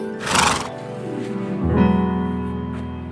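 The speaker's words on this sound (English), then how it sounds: "Officer Lewis called the McCreadys, who took their horse home" A horse neighs loudly and close by, one sharp whinny followed by a long, lower, shuddering neigh.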